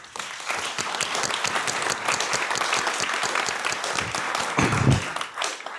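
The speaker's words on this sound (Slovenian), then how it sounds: "prosim en aplavz" An evening audience applauds the makers of a handmade folk instrument, giving a steady burst of dense clapping lasting several seconds, fairly close and loud.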